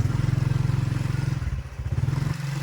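A small vehicle engine during a driving lesson chugs in a steady, close pulsing rhythm, dips briefly mid-way, then picks back up as the vehicle pulls away.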